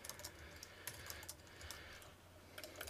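Quiet, fast typing on a computer keyboard during HTML and CSS coding, with light key clicks in quick irregular runs and no voice.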